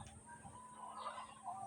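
A tiger chicken clucks softly over a faint steady hum, short low calls close by with a quiet, muffled setting.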